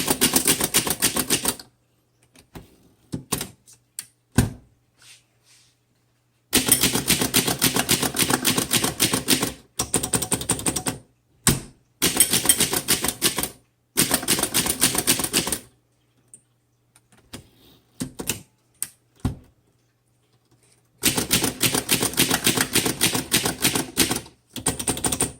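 Typing on a 1932 Underwood Portable 4-Bank typewriter, close and loud bursts of rapid mechanical key strikes in long runs, separated by pauses with scattered single clacks and carriage sounds.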